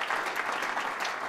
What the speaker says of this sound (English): One more round of applause for Greg